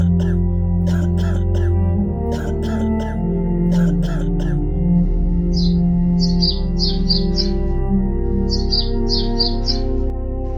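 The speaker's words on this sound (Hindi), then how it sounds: "उसके पिताजी रात भर खांसते रहते हैं और सो नहीं पाते" A cartoon's sick elderly father coughs and clears his throat repeatedly in harsh bursts, over a steady droning music bed, with bird chirps twittering in clusters toward the end.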